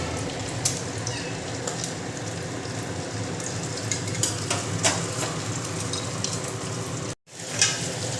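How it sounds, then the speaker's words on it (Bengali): Eggs fry in a pan in a home kitchen, giving a steady, close hiss and crackle of hot oil that breaks off briefly near the end. "এখন ডিম ভাজা রান্না হচ্ছে।"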